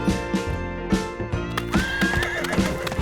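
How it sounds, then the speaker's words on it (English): A horse whinnies loudly at a horse farm, a long rising-and-falling neigh over steady clip-clop hoofbeats in a lively setting. "Peppa loved watching the horses, so after the meal, Daddy took Peppa to the horse farm."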